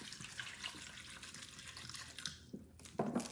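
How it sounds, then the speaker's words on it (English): Distilled water pours in a steady splashing stream over sea moss, close by, with a brief louder gush near the end. "distilled water, and I'm just going to give that a good pour"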